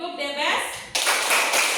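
Children in a classroom clap in a quick rhythmic chant, a few sharp hand claps mixed with young voices chanting together, loud and close.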